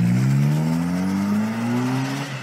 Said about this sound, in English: Fucking diesel.